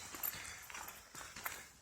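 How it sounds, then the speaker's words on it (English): Horses with riders on a forest trail in Mohican State Forest, hooves clip-clopping in an uneven run of faint, fairly distant steps over steady outdoor background noise. "Ran a couple of groups of horse riders coming in."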